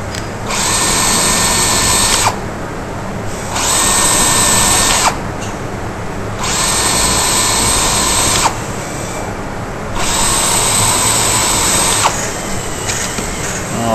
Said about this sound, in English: on a block of wood, we're going to pre-drill some holes